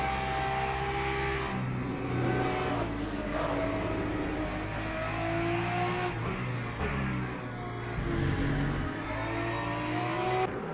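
GT3 race cars lapping Interlagos in Brazil in the Le Mans Ultimate sim racing game, with a steady, loud engine drone whose pitch rises and falls through gear changes and passing cars, continuous throughout.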